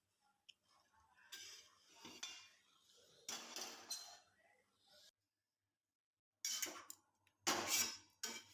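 Utensils clinking in a home kitchen while roti is made, with several bright clattering bursts of metal and dishes separated by quiet gaps, close and fairly loud, with faint voices in the background.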